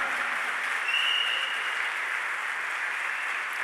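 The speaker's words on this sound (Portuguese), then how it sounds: "Brada uma salva de palmas para o Senhor" Steady, dense applause from a large church congregation at Mass, sustained without pause throughout.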